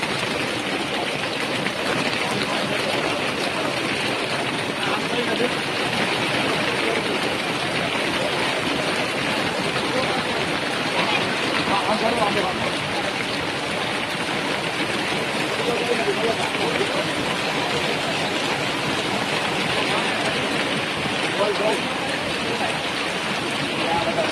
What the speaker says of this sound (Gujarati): વરસાદ ચાલુ થઈ ગયો મોટા ઠંડા પડે છે